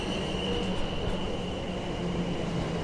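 A train, the 10 o'clock service to Poole, rumbles steadily with a low continuous roar and a faint high whine throughout, close by and without talk.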